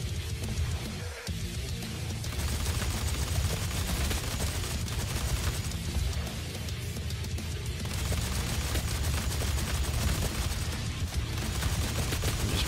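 Heavy machine gun fire in DOOM multiplayer, a dense, continuous roar of shots that stays loud throughout without pause.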